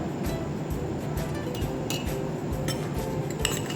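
Metal spoon clinking against a mug while cocoa powder is stirred into a chocolate mug cake batter, a quick irregular series of light, close taps and scrapes.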